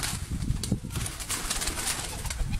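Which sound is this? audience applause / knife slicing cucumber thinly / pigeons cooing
pigeons cooing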